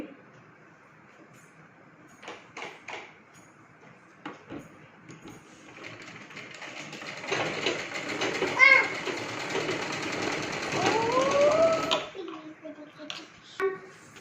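A sewing machine stitches lehenga fabric in short bursts, then runs in a longer steady whirring stretch, close and moderately loud, with a voice and someone talking around it.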